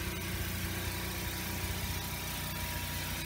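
Gas Onan 4.0 generator running on a 2019 Gulfstream BT Cruiser 5270 travel trailer, a steady close hum with low rumbling throughout, no talking.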